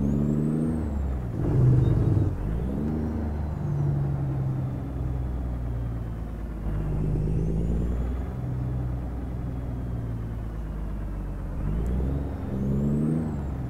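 Kenworth K100 truck in a video game mod driving around a parking lot, a low continuous diesel engine drone with shifting pitch as it revs, and several sharp hissing air brake releases along the way.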